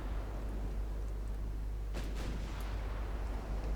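Naval guns fire during an 1896 Norwegian naval campaign in a strategy game, heard as a few faint, muffled booms in quick succession over a steady low rumble.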